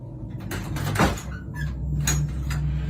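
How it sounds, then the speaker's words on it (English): A door swings open and shut, with scraping, sliding and knocking sounds at close range, several distinct movements over a low background hum and no talking. "Oh my god, it opened again."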